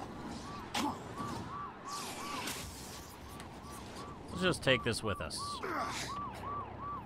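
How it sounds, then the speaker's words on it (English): Repeating wailing siren in the video game Darksiders Warmastered Edition, its rising and falling cycles steady beneath a player's talk and bursts of game action. "That shut off the siren."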